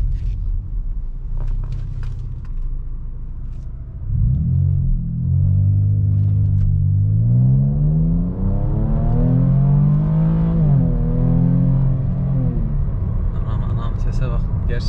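A 2016 Mercedes-Benz E350 V6 in sport mode accelerates hard from 0 to 100, its engine note surging loud and climbing in pitch through the gears after a brief stretch of idle rumble and a little talk.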